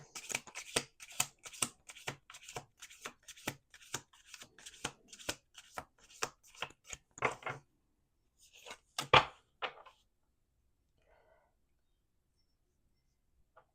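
Tarot cards are riffled and snapped together in a quick run of crisp, rhythmic flutters, then a couple of louder riffles before quiet settles.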